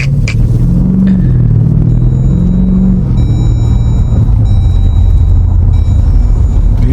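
An SRT engine with a cylinder 6 misfire idles and rumbles loudly up close, with a rough, gargling burble and uneven low pulses throughout.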